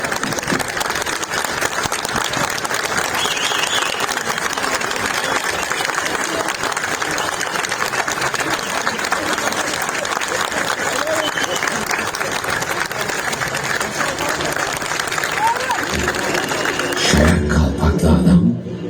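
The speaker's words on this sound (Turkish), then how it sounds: "Hep beraber ayağa kalkalım biz de dahil olmak üzere bu topraklara yetiştirdiği en büyük devrimci Mustafa Kemal'e ayakta alkışlayalım." A large festival crowd in Dikili, Turkey, gives a standing ovation, applauding loudly and continuously for a long stretch, dense clapping with cheers mixed in, ending abruptly.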